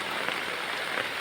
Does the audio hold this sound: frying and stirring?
no